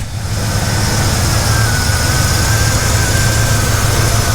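A 1981 Pontiac Turbo Trans Am engine catches and settles into a steady, loud idle, a continuous low rumble with a faint high whine riding over it, close up and with no talk.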